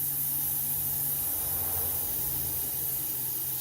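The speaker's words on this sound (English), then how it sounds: "we're going to put the old brake parts cleaner in the hole" Brake parts cleaner sprays into a damaged spark plug hole on a 2002 Ford Escape, a loud, steady aerosol hiss that runs unbroken and close throughout.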